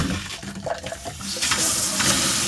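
Water runs from a blue Gotron RV and garden hose on the hot-water side. It gushes and splashes in an uneven rush that grows into a steady, louder spray toward the end.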